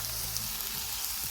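Oil sizzling hard in a pan for a cabbage dish, a bright, dense crackle that stays steady and close through a short moment, with no speech over it.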